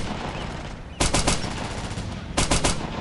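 Gunfire in the video game Operation Flashpoint 2, with two short bursts of rapid automatic shots over constant loud battle noise.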